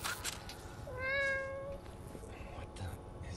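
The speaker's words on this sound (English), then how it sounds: "Is this Bob's cat?" A cat in the video game Greyhill Incident lets out one clear, drawn-out meow close by, with low background rumble and murmuring around it.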